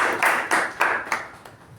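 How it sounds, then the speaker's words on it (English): A small group at a Toastmasters meeting applauds a speaker with a few loose, rhythmic clap bursts in a room with some echo. The claps are moderately loud and taper off after under two seconds. "So a round of applause to her."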